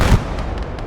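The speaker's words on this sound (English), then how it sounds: "I'm loving that artillery." Artillery fire in the WWII battle game Motherland booms low and heavy, with a deep thump at the start followed by rumbling and scattered distant blasts.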